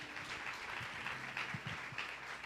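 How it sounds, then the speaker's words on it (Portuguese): A church congregation applauds during a worship service: a steady, full wash of clapping hands that fills the room, with a low hum and a few heavier thumps underneath. "Aplauda o Senhor."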